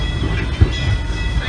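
A Disneyland Railroad train rolls to a halt, wheels and carriage rumbling close with a soft clack partway through, low and continuous for a brief moment.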